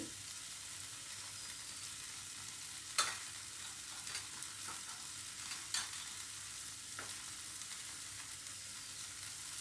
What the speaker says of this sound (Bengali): দিয়েও ভালো করে নাড়িয়ে নিতে হবে।